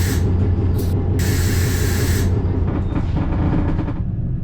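Sharp hissing bursts, short ones and then a longer blast of air, come from a German high-speed train, loud over the steady low rumble of the ride heard from inside a carriage.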